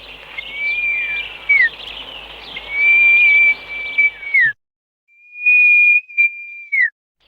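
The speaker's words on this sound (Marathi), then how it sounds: "आता जी शिटी कशी मारतो याचं एक वेगळं तुम्हाला डेमॉन्स्ट्रेशन दाखवतो." A person blows a sustained, deep whistle to call birds to feed in rural Konkan, three long steady tones each ending in a short downward slide, loud and close with brief pauses between.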